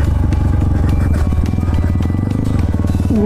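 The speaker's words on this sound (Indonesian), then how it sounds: "Kita naik motor." A motorcycle climbs a steep, slippery mountain road toward Cisadon, its engine loud and close in a steady, throbbing drone that holds throughout with faint clatter.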